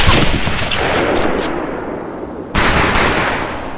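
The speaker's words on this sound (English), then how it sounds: "that's some pretty fair shooting" Rifle fire booms at a training-camp shooting range in Medal of Honor Pacific Assault, dense, loud and continuous reports with rapid cracking bursts early on and a fresh heavy volley near the end, with no talking.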